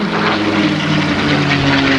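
A P-51 Mustang rolls through aerobatics at the 1986 Daytona Beach Skyfest, its propeller engine a loud, steady droning roar with a sustained low hum throughout.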